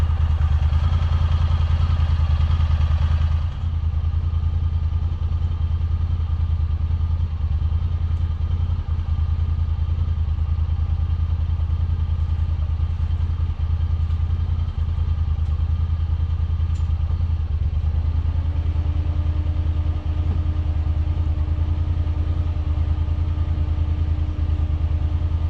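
A Honda Talon side-by-side drives along with its engine droning steadily at close range, a continuous mechanical rumble with a faint rising whine near the end and no talk.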